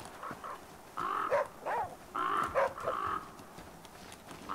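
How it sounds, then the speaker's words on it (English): Birds squawking and crowing in a sequence of harsh, overlapping calls within the survival game The Flame in the Flood, moderately loud over an ambient backdrop, with no talking. "Oh, get away, birds."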